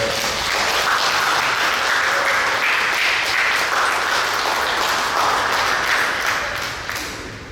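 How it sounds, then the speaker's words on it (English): Sustained applause from an audience at a Hawaiian summer institute showcase, a thick even wash of many clapping hands, loud and unbroken before tapering slightly at the end. "let's give them another round of applause"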